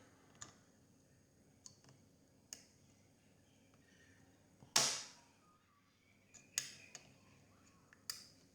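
Slots being cut into the plastic wing of a 1/48 scale P-61 Black Widow model: scattered sharp clicks and ticks in a quiet room, with one louder snapping crack in the middle and a few lighter clicks after it.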